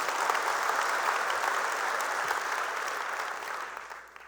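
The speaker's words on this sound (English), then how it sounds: "Let's give him another round of applause." Audience applause for a keynote speaker at a tech conference, steady dense clapping throughout that fades slightly toward the end, with no talk over it.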